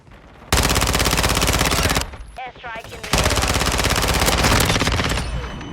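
Automatic gunfire from a submachine gun in Call of Duty: Modern Warfare II, loud and sustained in two long rapid bursts separated by a brief pause with a short whistling tone.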